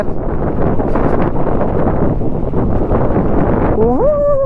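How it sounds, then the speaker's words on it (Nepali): Strong wind buffets the microphone without letup on a dusty mountain road in Mustang, Nepal, a loud, steady roar, with a brief tonal whine near the end. "कस्तो हावा त नि"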